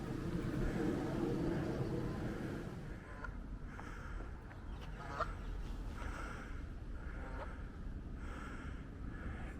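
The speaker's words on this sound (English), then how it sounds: "Geese are plenty round here." Geese in Greenwich Park give several short honks, moderately distant, over a constant low rumble of outdoor park ambience, with no talk.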